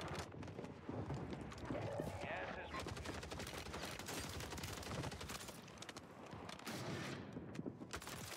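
Call of Duty Warzone on Rebirth Island fills the moment with rapid bursts of gunfire and dense, overlapping shots, loud and continuous in the game mix.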